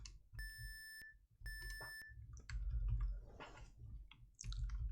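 Game Boy sound channel 2 produces two short square-wave beeps, followed by a scatter of quieter chiptune blips and clicks over a low rumbling background, with no speech.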